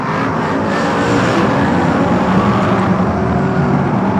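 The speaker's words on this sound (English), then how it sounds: "Warwick in second place, charging through is Neil Scoggin in 152." BriSCA F1 stock cars racing round the Coventry oval, a loud, continuous roar of several engines revving hard and blending together close by, with no pauses.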